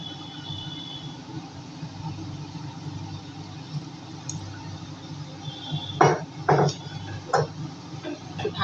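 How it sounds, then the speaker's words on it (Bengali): Creamy prawn curry stirred in a pan after water is added; a steady low kitchen hum runs throughout, then a cluster of sharp spoon-on-pan scrapes and clinks arrives near the end. "ভালো করে নেড়ে"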